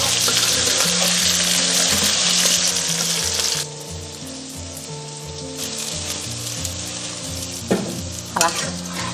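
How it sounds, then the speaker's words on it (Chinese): Tofu fries in hot oil in a pan with a loud, steady sizzle over background music, softening partway through, with a couple of utensil clinks near the end. "煎豆腐就跟煎鱼一样的，一定要热锅倒油下去，就不会粘锅"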